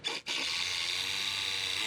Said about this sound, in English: I'm just putting up a few more screws into these support joists.